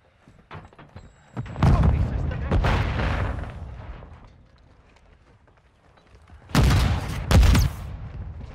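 Grenade blasts in the multiplayer video game Call of Duty: Modern Warfare II, with a loud booming burst early, a sustained rumble, then two sharp heavy blasts near the end, all close and forceful.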